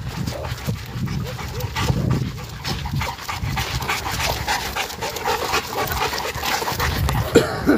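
A Boerboel dog panting on a night walk, rapid and close, with a few faint whimpers. The breathing continues under background voices and outdoor noise.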